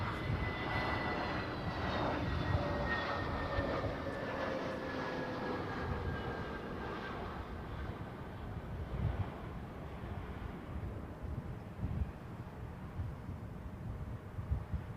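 A jet airliner landing at Heathrow airport, a loud broadband engine roar with a falling whine that fades as the plane passes, heard outdoors with wind noise on the microphone.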